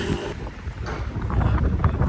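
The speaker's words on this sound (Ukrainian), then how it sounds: "Тут же вітер гарний, зараз і збоку, і по всякому." Wind buffets a phone microphone outdoors while riding along, a steady low rumbling roar that swells slightly toward the end, with no voices.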